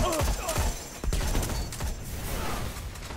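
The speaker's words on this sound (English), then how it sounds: "Grenade." A grenade goes off amid a flurry of gunfire in a Destiny Iron Banner match. Sharp, close bursts and blasts crowd together over about three seconds.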